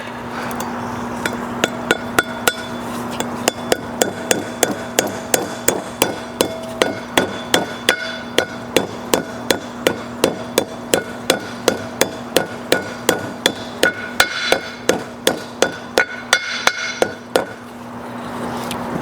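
Steady, evenly spaced metallic hammer blows on a standard trailer axle during servicing, loud and close, repeating about twice per second with a ringing clink at each strike.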